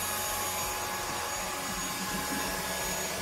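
A Xiaomi Mijia 1C robot vacuum whirs steadily with a broad, even hiss and motor drone, close and continuous, with no voices.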